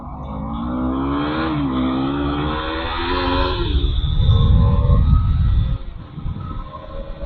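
A motorbike with freshly changed tyres rides along a road, its engine rising in pitch as it accelerates through the gears, then a rougher, louder drone before easing off. The sound is close, continuous and without speech.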